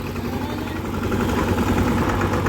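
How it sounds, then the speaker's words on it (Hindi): A tractor engine runs at a steady loud chug near a backhoe loader and small tractors, a continuous low rumbling drone with no breaks. "चलो ट्रैक्टर बढ़ाओ।"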